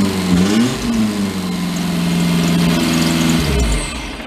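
A cheap Chinese truck engine revs loud and close, climbing and falling in pitch through a few throttle blips before settling back toward idle, with no talk over it.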